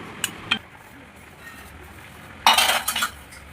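A utensil scrapes and clinks against a bowl while grated boiled egg and potato are mixed, giving a few soft taps early and then a louder burst of scraping strokes, close by in a quiet room.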